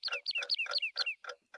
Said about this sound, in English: I can hear some early birds starting to sing.